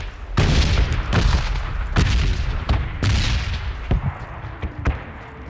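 Several sharp gunshots crack at irregular intervals in PUBG, some echoing like distant bursts, loud and punchy over a low rumble.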